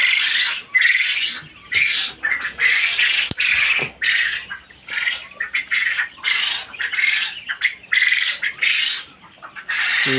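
Quail chicks near an incubator give loud, shrill, rapid chirps in dense overlapping bursts close by, a constant high chorus with brief gaps.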